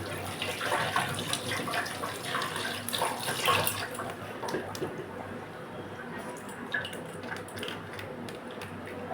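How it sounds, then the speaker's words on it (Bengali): Tap water runs steadily while a hilsa fish is washed at the sink, a continuous close splashing stream with occasional wet squishes of handling, and no voices. "মাছটা ধুয়ে নেব।"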